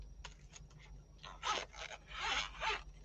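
A zipper on a pencil case is pulled open in several short, raspy strokes, the last few louder and longer, close up with a quiet room behind.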